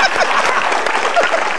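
Brief burst of audience applause at an Indonesian stand-up comedy show, dense and fairly loud, with a few cheers or whistles mixed into the clapping.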